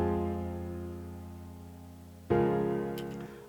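Supersaw synth chords voiced too low in FL Studio ring out as a thick, sustained chord that slowly decays, then a second chord strikes sharply and holds, buzzy and heavy in the low end.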